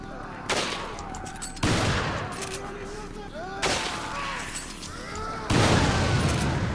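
Bursts of gunfire in Resident Evil 5 crack out in several sharp volleys spaced across the scene, loud and close, with game ambience and a voice speaking between the shots.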